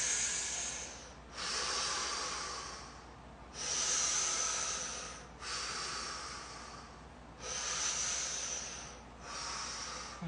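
Slow, deep breaths during a head, neck and shoulder release stretch, four long airy inhale-exhale cycles with a snorting, hissing nasal edge, close and steady, no talking.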